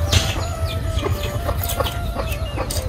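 Chickens cluck in short repeated bursts on a farmyard, several close calls spread through the clip over a steady background hum, with no talking.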